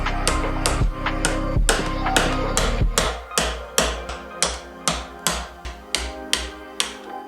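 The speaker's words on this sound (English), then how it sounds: "Just gonna pop out this seal by using a hammer and a chisel" Sharp metallic hammer taps on a chisel popping out a transmission seal on a Mazda Miata 6-speed, striking steadily one after another, close and loud, over a low humming background.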